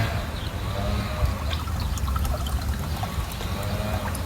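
DOT 3 brake fluid is poured into the master cylinder reservoir of a 1974 Dodge D100 pickup, giving a continuous close trickling pour with faint splashes over a low hum.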